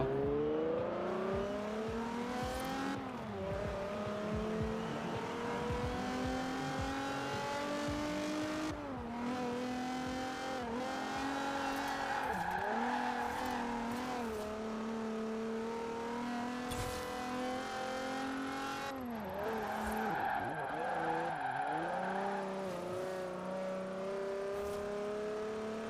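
A stock car in the Forza Horizon 5 racing game revs continuously, its engine note climbing and dropping through gear changes, with occasional tire squeals, fairly quiet and steady throughout.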